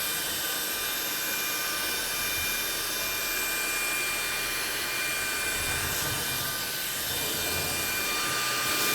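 A 55 kPa cordless vacuum cleaner sucking up a pile of debris, heard as a loud, steady airy roar with a faint high whine that runs on without a break and with no voices.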